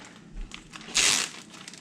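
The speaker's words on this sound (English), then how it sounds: "Then we're going to find a plastic bag." A plastic bag crinkles briefly up close while vegetables are bagged in a kitchen, a short bright rustle burst amid quieter handling noises.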